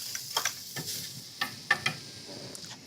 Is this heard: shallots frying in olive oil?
yes